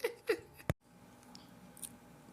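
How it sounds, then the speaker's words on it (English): A dog eats greens at a holiday dinner table, making a few close, wet crunching and snapping bites in quick succession, then a quieter room with faint background sounds. "He gonna eat the greens first."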